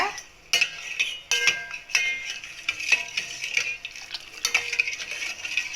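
A spoon stirs an agar agar and soya mixture in a pot, making repeated sharp metallic clinks and scrapes against the pot in an irregular rhythm, close and fairly loud.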